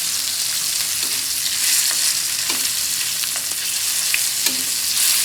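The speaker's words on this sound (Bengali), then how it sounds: "মাছ হালকা একটু ভাজি করতেছি" Hilsa fish lightly frying in oil in a pan, a loud continuous close sizzle with occasional spatula knocks and shuffles as the pieces are moved about.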